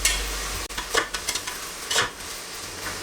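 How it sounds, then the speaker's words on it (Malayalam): Vegetables and biryani masala sauté in a pressure cooker with a steady sizzle, broken by several sharp stirring scrapes of a spoon against the pot. "എന്നതിന് ശേഷം ഒന്ന് നന്നായിട്ട് സോട്ട് ചെയ്ത് കൊടുക്കാം"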